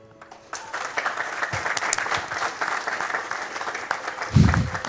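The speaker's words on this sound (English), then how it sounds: "give yourselves a big round of applause" A large audience at the Summer Games Done Quick 2016 speedrunning event applauds continuously and loudly after a quiet opening, with a low thump near the end.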